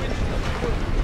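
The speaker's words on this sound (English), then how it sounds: "Your engine is loud." A loud engine runs steadily in the open air, a continuous broadband roar with wind buffeting the microphone, heard close and without a break.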